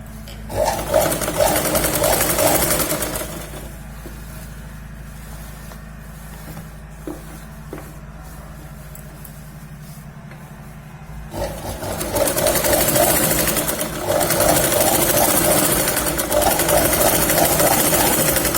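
A sewing machine stitches a Punjabi salwar suit in two loud bursts of rapid, rhythmic whirring, with a quieter pause in between filled with soft handling noises and faint clicks.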